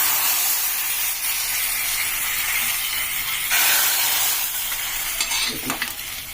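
Hot tempering (tadka) poured into buttermilk rasam, a loud continuous hissing sizzle close by that flares up midway and then settles, with a few spoon clinks near the end.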